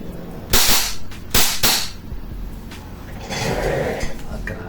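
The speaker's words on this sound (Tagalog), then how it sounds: "Firing muna tayo. Pakita ko yung blowback test." A WE Hicapa Dragon 7.0 gas blowback airsoft pistol fires two sharp, loud pops about a second apart, each followed by the clack of the slide, then a brief gassy hiss and rustling trail off.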